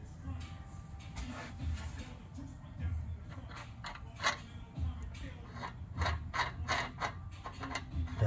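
Ratchet working on the passenger-side upper trailing arm of a G-body car, tightening toward the axle; repeated clicking pawl strokes in uneven bursts, close and fairly loud over a steady shop background.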